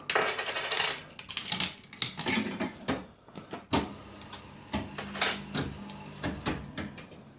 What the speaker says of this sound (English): You have to piddle about with the coins sometimes,